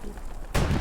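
A tank shell explodes in the World War II shooter Hell Let Loose, a sudden loud boom cutting in after a quieter stretch of ambient battlefield noise and ringing out with a heavy low rumble.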